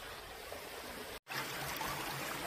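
River stream flowing next to a cave entrance, a steady faint hiss of running water, continuous apart from a brief dropout partway through.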